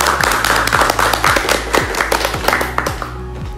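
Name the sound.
audience clapping for student council candidates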